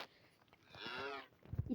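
A cow in a video game gives a single drawn-out moo lasting under a second, fairly close and clear against a quiet background, followed by a few soft thumps.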